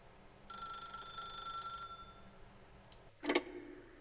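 A telephone rings in the video game Stanley Parable Ultra Deluxe, a single bright ring held for over a second, followed shortly by a brief clunk as the receiver is lifted.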